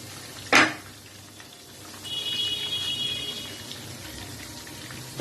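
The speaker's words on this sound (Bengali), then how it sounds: "এই পাতুরিগুলোকে বারবার করে খুব সাবধানে এপিচ ওপিচ করে ভেজে নিতে হবে।" Hilsa fish paturi frying in a pan gives a soft, even crackle like light rain, broken by a sharp clack near the start and another at the end, with a faint high whine in the middle.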